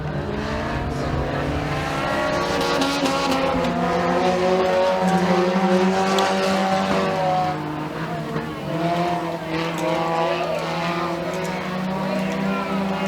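Race cars run laps at Freedom Motorsports Park during a heat race, their engines roaring continuously and rising and falling as they circle the track, with an announcer talking over the noise.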